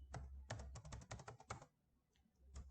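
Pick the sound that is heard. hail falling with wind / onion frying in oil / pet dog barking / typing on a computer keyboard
typing on a computer keyboard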